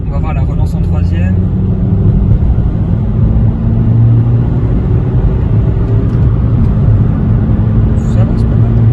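A second-generation Toyota Yaris 1.3 VVT-i accelerating in third gear, heard from inside the cabin as a steady, loud low engine drone and road rumble, with people talking over it.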